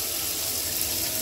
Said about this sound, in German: Wasser lasse ich kurz laufen, damit es richtig schön ist